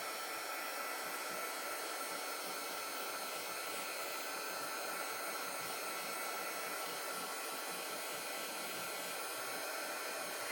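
A heat tool blows a constant, loud, even rushing whoosh while melting embossing powder on a craft piece, with no change in pitch or level from start to finish.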